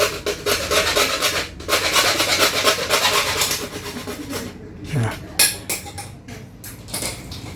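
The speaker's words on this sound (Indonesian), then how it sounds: "ambil gergaji besi tadi yang sudah disiapkan dan dipotong" A hardware hacksaw cuts through a piece of pipe for a DIY aquarium drip filter, making steady rasping strokes that are loud and continuous at first, then fall into slower scattered scrapes and knocks toward the end.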